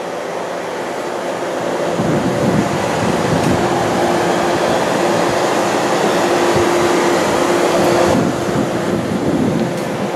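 A frac sand drum dryer, 47 feet long, runs with its natural gas fired burner and 75 horsepower combustion blower, giving a loud, steady industrial roar and whoosh that holds constant throughout with no talk.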